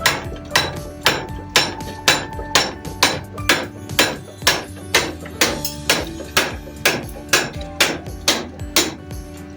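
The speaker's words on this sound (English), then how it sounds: "I'm going to take a hammer." A hammer strikes a metal piece clamped in a vise at a steam engine show, a long steady run of loud, ringing blows at an even rhythm, each impact close and metallic.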